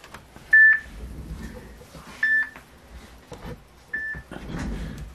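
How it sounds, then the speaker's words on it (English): A phone rings during a lottery scratcher session: three short, bright electronic tones about 1.7 seconds apart, fairly close and clear over low room noise, with no talking. "Sorry about that, phone ringing."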